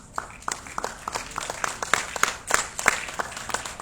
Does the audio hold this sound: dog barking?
no